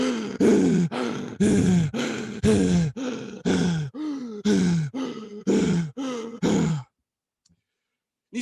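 A voice imitates heavy breathing: about eleven loud, rasping, evenly spaced breaths, each like a groaning sigh, then a sudden silence.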